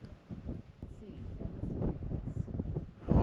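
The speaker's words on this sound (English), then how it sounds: "the wind is picking up, the clouds are building, so it is time to go" Wind picking up on the summit of St. Vrain Mountain in the Rocky Mountains, a rough, gusty roar buffeting the microphone that swells and surges close and loud throughout.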